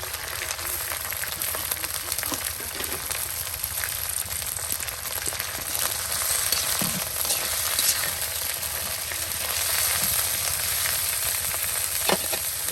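Moringa leaves frying in oil for a village-style bhaji, a continuous close crackling sizzle with faint stirring and small pops throughout, no voices.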